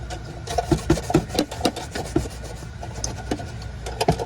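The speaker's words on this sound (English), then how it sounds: "you just kind of scratch at all the raised surfaces" Abrasive scratch pad rubbing raised areas of a painted vintage metal barn lantern, a close, dry rasping in quick irregular strokes that come in short bursts with no one talking.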